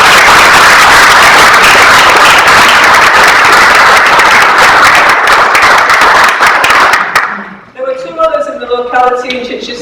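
A hall audience at the VAAC 2022 AGM breaks into loud, sustained applause for a long-serving volunteer, dense clapping filling about seven seconds before fading out as a speaker resumes talking.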